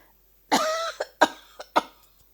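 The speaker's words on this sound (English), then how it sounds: "I have this itching, so I want to cough again" A person coughs several times in quick succession, a strong first cough followed by shorter, weaker ones, close and otherwise quiet.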